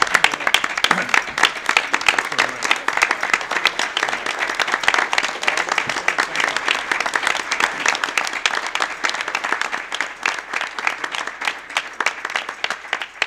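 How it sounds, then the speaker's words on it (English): A meeting audience at a California High-Speed Rail Authority board session in Sacramento applauds Dan and Mike, a steady, dense round of clapping from a roomful of people that holds for about thirteen seconds and tapers slightly near the end. "I'm going to ask everyone to join with me to applaud Dan and Mike."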